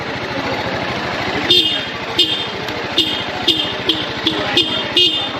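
A TVS RTR 310 motorcycle horn beeps in short, evenly spaced toots over a steady idling engine rumble, close and fairly loud.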